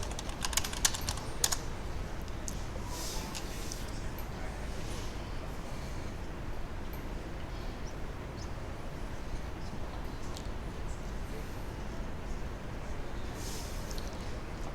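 Computer keyboard typed on steadily for a coding prompt, a dense run of fast close key clicks that begins with a few sharper taps and continues evenly throughout, with no speech.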